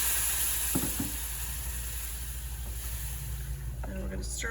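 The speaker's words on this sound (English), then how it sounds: "And then to that we're going to add 2½ cups of vegetable broth" Low-sodium vegetable broth poured into a hot skillet with spices, a steady sizzling hiss with brief clattering knocks and a rumbling low hum, a voice speaking near the end.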